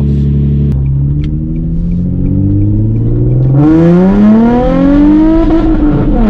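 A Nissan 350z engine cold start with traction control off: a loud, steady idle that surges into a higher rising rev about halfway through and holds the raised drone to the end.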